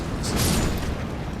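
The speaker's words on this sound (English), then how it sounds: "that explosion is not playing friends with me" A short, heavy explosion goes off in Elden Ring's Caelid region, a dense rumbling blast with a bright burst near its start that then holds a loud, roaring body.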